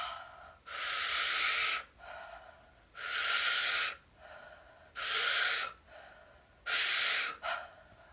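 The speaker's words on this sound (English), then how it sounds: "I can use mouth breathing and speeding up the way that I breathe to boost energy" A person does a rapid mouth breathing exercise to boost energy: four strong, loud, rhythmic breaths, each about a second long and separated by short pauses, close up with no talk.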